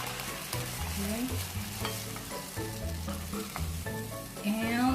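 Pork stock and sauce are poured into sizzling pork hamonado, giving a steady, loud frying hiss with stirring, under a continuous tonal background that swells near the end.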